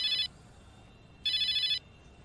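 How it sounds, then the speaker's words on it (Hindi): A mobile phone rings in two short electronic bursts, a brief trill, a pause of about a second, then a longer trill, clear and fairly close over a quiet room. "आपका फोन बज रहा है।"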